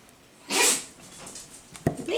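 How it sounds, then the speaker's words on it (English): A puppy sneezes in a home kitchen while pork chops are prepared, one sharp burst followed by softer snorts and a quick second sneeze close to the microphone. "My puppy's got the sneezies."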